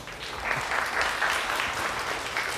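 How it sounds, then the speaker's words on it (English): Brief, steady clapping from an audience at a wedding show during a styling demonstration, moderately loud and continuous with no voices over it. "You can clap, go ahead."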